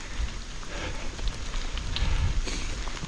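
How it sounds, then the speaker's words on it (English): Heavy rain pours down steadily on a bikepacking trail along the Marcher Castles Way, a dense, continuous hiss with patters of drops hitting nearby surfaces, loud and unbroken throughout with no talking. "It's a good old downpour."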